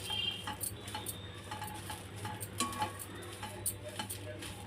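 Moringa (drumstick) leaves stirred and fried in a pan, with a spoon scraping and clinking against the metal in an irregular rhythm over a low, steady sizzle, close and moderately loud.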